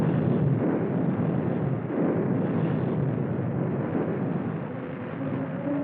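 Airstrikes and naval gunfire pound enemy positions on Iwo Jima, a continuous, muffled rolling rumble of blasts and booms from an old wartime recording, heard without voices.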